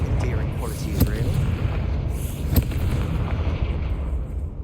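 A Confringo fire spell explosion in the video game Hogwarts Legacy, sharp booming blasts around the middle over a rumbling game backdrop, while a voice talks throughout.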